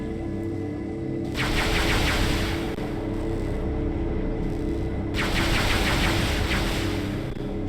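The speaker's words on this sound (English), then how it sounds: "we get to see Samus's finger twitch for each gunshot as she's pulling a trigger" Two long bursts of rapid arm cannon fire from Samus in Metroid Prime 3, each lasting several seconds, loud and hissing over a steady droning game background.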